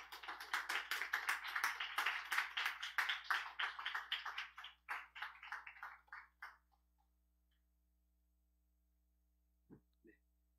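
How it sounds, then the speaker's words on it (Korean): A small congregation at a Korean church service welcomes a guest speaker with a burst of close, dense hand clapping that lasts about six seconds, thins out, and stops. A brief faint sound follows near the end. "우리 격려의 박수로 맞이하도록 하겠습니다."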